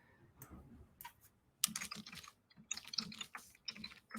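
Fingers type on a computer keyboard while entering text into a Canva design. The key clicks come in quick, uneven bursts separated by short pauses, close and fairly quiet, with no talking.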